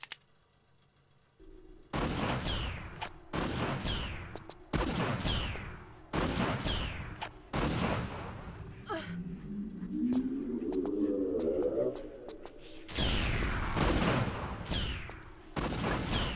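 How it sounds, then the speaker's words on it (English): Weapon fire in Tomb Raider: The Lost Artifact, several heavy booming blasts in irregular succession, each with a long rumbling tail, plus a rising whirring sound between shots. "Grenade launcher."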